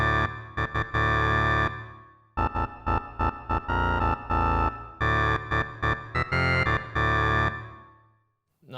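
A Super Nintendo sample library guitar sound played through a Church reverb setting, a run of loud, distorted chord bursts with short gaps, each decay briefly smeared by the reverb before a quiet pause near the end.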